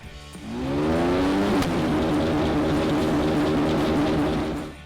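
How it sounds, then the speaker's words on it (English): A new Porsche 992 GT3 Cup race car engine fires up for the first time, catching with a rising whine and then holding a loud, steady, harmonically rich idle close by. "Let's enjoy the sound of this 992 GT3 Cup."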